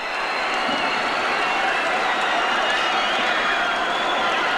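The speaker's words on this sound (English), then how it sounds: "The crowd is going absolutely wild. They're standing all over the forum." A packed wrestling crowd at the Halifax Forum roars and cheers wildly through a 1984 AWA World Title match, a loud, unbroken wall of screaming and applause with no pause.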